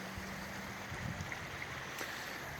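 Steady, continuous water rush of a creek running right beside a home, an even broadband wash with faint gurgles and no voices.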